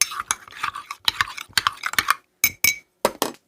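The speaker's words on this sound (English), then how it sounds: "Mix that in there real good." A spoon stirs cornstarch into cold milk, clinking quickly and repeatedly against the side of the container. The bright, close taps come in fast irregular runs with brief pauses.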